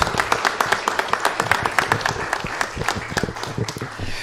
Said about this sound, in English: How about a round of applause for Dee Thomas?